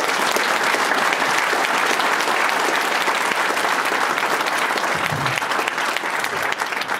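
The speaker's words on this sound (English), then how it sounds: "I think they deserve another round of applause" A full, dense round of audience applause after a sheriff candidates' debate, loud and sustained for the whole stretch with barely any voices.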